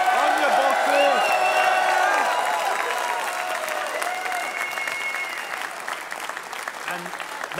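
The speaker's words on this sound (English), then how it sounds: "Ladies and gentlemen, can we get a round of applause for Boxy?" Crowd applause at a Dota 2 esports tournament, a dense wash of clapping from a large audience that swells early then gradually thins and fades, with a faint voice briefly audible underneath.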